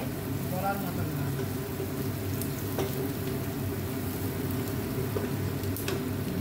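Onions frying in a pan, a steady, even sizzle that runs throughout with a few faint clinks of stirring.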